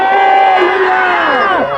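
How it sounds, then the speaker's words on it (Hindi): A church congregation shouts Hallelujah loudly in unison, a single short burst of massed voices, close and strong, with a slight rising inflection before it fades. "आइए हम जोर से हालेलुया का नारा लगाएंगे"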